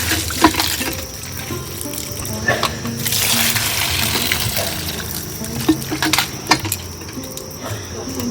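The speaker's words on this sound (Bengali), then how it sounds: "এবার ভালো করে মাছটা ধুয়ে নেব।" Rohu fish being washed under running tap water, a continuous close splashing stream with intermittent bursts and clatter as the fish is handled.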